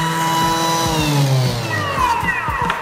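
A Thermomix food processor's knife blades spin up to top speed for a brief cleaning whirl, a loud, close, rising whine with rattling bits clattering against the bowl.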